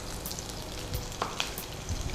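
Garlic and green chilies fry in hot oil with a continuous crackling sizzle, broken by scattered spatula clicks and scrapes.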